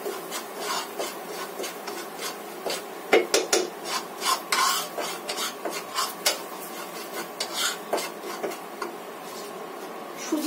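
Semolina frying in ghee, stirred with a utensil that makes repeated close scraping and rasping strokes against the pan, uneven in rhythm, with no voices.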